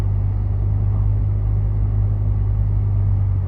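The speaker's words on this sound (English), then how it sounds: "the muffler is a little bit noisy because it's a custom muffler" Honda N-Box kei car idling with a noisy custom aftermarket muffler, giving a steady, low, droning engine rumble heard up close with no talk.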